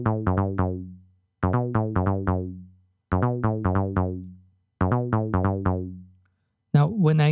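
Acid bass line on a Korg Electribe 2, using a saw oscillator through a TB-303 style filter. Four loud groups of quick staccato notes are separated by short silences, and a brief voice enters at the end.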